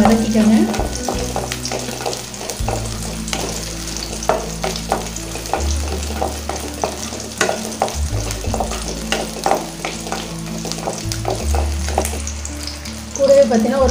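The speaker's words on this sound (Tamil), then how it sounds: "சின்ன வெங்காயம் போட்டு நல்லா 2 நிமிஷம் நல்லா இதை வதக்கிக்கோங்க." Small onions (shallots) sautéing in a pan for paruppu rasam and kollu thuvaiyal, a steady frying sizzle with frequent stirring scrapes and clinks, under a low droning hum.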